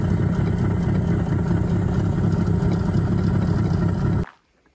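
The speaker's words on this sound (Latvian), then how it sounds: "Jāuzsild višķi motors." A John Deere tractor engine idles while warming up, a close, steady rumbling drone that runs evenly and then cuts off abruptly near the end.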